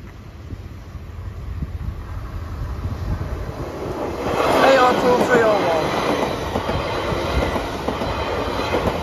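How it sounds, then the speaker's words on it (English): A train rumbles past nearby at Moat Hills level crossing, its steady roar swelling midway with faint wheel squeal and rattling, then easing off under wind noise. "Yeah, that's their train."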